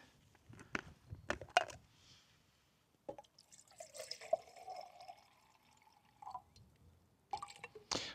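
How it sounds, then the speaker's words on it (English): Water from a container is tipped into a camping kettle on a stove, a close gurgling trickle with splashes and drips, mixed with scattered clunks and handling noises before and after. "Chuck some water in."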